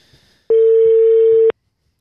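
A steady one-second electronic phone tone sounds while waiting for a hotel-quarantine call to connect, loud and clean with abrupt start and stop, faint room noise before and after.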